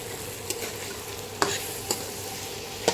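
Chickpeas (nun chola) frying in a little oil and being stirred in a pan, giving a steady low sizzle with a few sharp spoon scrapes against the metal, fairly faint and with no voices.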